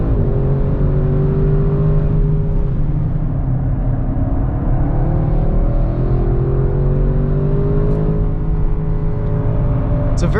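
A 2021 Audi RS6 Avant lapping a race track, its engine droning steadily with rising and falling pitch as it works through corners, loud and continuous from inside the car, with no talk over it.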